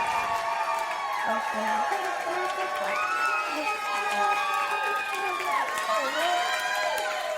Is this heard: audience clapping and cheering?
yes